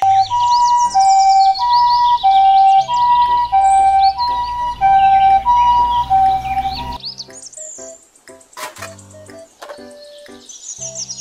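A toy ambulance plays an electronic siren melody with warbling tones and chirpy effects, loud and close, then cuts to quieter clicks and softer beeps partway through.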